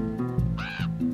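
Birds cawing in The Grinch video game, a few harsh crow-like caws in quick succession, loud and close over a steady game music bed.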